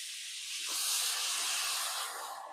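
A splash of water hits hot masala of oil, bay leaves and red chili powder in a kadhai for egg curry, producing a loud, steady hiss that swells and then slowly fades.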